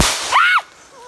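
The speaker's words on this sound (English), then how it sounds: "agricultural crow scarer" A single sharp bang from an agricultural crow scarer goes off in the distance on an outdoor woodland enduro trail, with a brief echoing tail and no talk.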